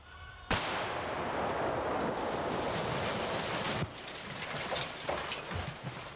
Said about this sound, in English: they destroy the still setup with a concussive explosion